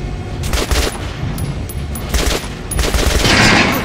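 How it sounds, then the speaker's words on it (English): Gunfire in Metro Last Light aimed at a training dummy, a loud rapid burst of shots in quick clusters, close and sharp with rattling bursts overlapping toward the end. "Try shooting with the center of the regular dummy's chest."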